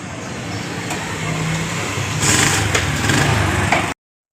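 A motorbike engine runs steadily at night on a street, rising slightly in intensity as the rider pulls away, then cuts off abruptly near the end.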